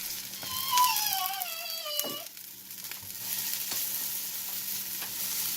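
Arepas frying in butter in a pan and being flipped with a spatula make a steady, close sizzle with a few sharp spatula taps, opening with a brief high whining tone.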